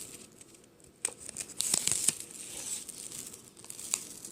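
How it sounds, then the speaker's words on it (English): Paper backing peeled off a strip of box tape while a cardboard box for returning DirecTV equipment is sealed: close crinkling and tearing in short bursts, with sharper rips in the middle. "So the little strip, I'm gonna go ahead and just remove this little paper here."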